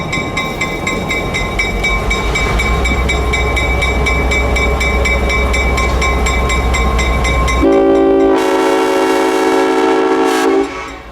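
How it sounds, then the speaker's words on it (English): The Clinchfield 800 locomotive rolls in with its train, a loud steady rumble of engine and cars, then a long sustained horn blast sounds close by near the end. "the train approached the north end of the Y with the 800 now up front."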